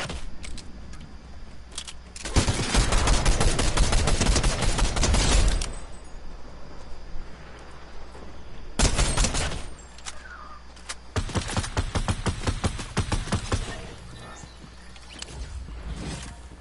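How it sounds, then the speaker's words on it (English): Gunfire in a video game played on PS4: several long bursts of rapid automatic shots separated by quieter gaps, fairly close and loud, with a muffled in-game background between bursts. "Ooh, he's shooting."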